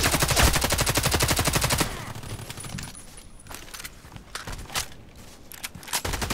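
Rapid automatic bursts from an HK 243 light machine gun in the shooter game Contract Wars, a loud sustained rattle of fire that gives way to scattered single shots and faint background noise.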